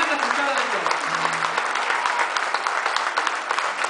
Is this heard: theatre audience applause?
yes